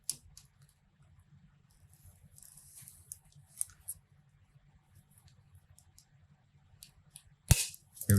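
Cutters snip through the wire of a double-bladed buzzbait with one sharp, loud snap near the end, after faint scattered clicks and handling noises in a quiet room.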